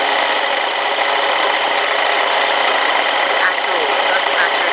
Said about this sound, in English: Just let the machine take your fabric through and neaten the edge